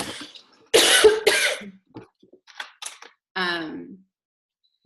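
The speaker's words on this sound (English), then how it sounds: "I have to cough." A few sharp coughs close to the mic, with short pauses between them, followed by a brief voiced throat sound.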